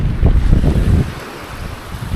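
Wind gusting across a shingle beach at Dungeness in Kent, a loud, close rumbling buffet on the microphone with surf washing underneath, no voices.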